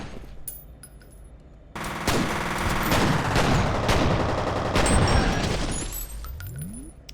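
Gunfire in the first-person shooter F.E.A.R.: Extraction Point, a few scattered shots and then a dense sustained burst of automatic fire with ringing impacts and sparks, ending in a rising mechanical whine.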